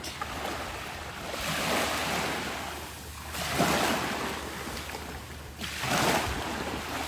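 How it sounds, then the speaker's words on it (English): Ocean waves roll in on a wide, airy wash of surf, swelling and breaking in slow repeated surges several seconds apart, with a constant low rumble and some wind underneath. "Who love the sound of the waves, who love this gorgeous blue color of the ocean."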